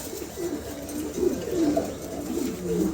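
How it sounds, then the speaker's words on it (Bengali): A pair of male Lakka (Andalusian) pigeons coo repeatedly up close, soft throaty rolling calls overlapping in a steady rhythm against a quiet indoor background. "প্রিয় দর্শক এখানে একজোড়া লাক্কা আছে দুটাই নর এটা দুটাই নর অ্যান্ডোলুশিয়ান দুটাই নর"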